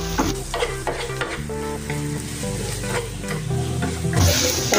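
Spices being stirred in a frying pan for samosa filling give a busy sizzle with repeated scraping spoon strokes, loud and close, with no talking.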